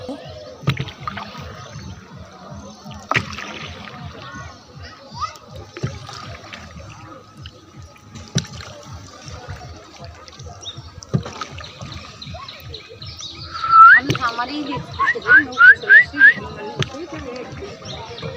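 A hand-rowed rowing boat moves across a lake with rhythmic oar strokes and water sloshing, repeating evenly throughout. Birds chirp near the end over soft ambient noise.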